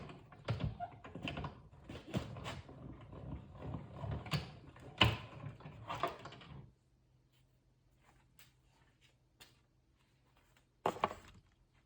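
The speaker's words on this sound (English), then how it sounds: "let's run that through the cut and emboss machine" A cut and emboss machine cranking paper through with a feather die, giving dense mechanical clicking and grinding for about six seconds, then near silence with a low hum and a brief final rattle.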